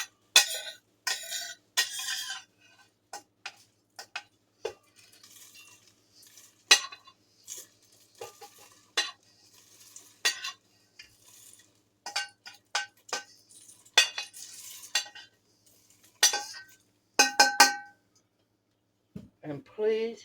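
Toasted onions and spices are scraped from a pan into a blender, making a series of sharp metallic scrapes, clinks and taps in irregular bursts, with short quiet gaps between them.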